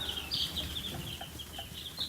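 High, shrill chick chirps repeat in short screeching peeps over a soft background of other farm birds, close and fairly loud.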